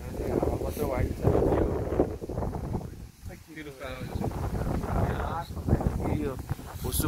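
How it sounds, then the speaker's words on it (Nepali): Strong, gusting wind at Swargadwari, in extreme weather, buffets the microphone with a loud, rough roar that continues throughout, while people talk over it. "हावा कत्रो भएको छ"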